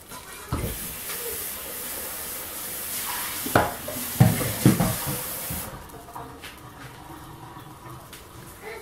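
Cream cheese pancake batter cooking in a pan gives a continuous hissing sizzle, with a few louder clatters and bumps in the middle before the sizzle softens and thins toward the end; no one speaks.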